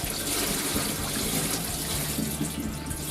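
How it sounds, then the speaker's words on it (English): Washed rice being drained, with water pouring and splashing steadily out of the grains for a few seconds at close range, loud and continuous with no voices. "We're going to drain the rice."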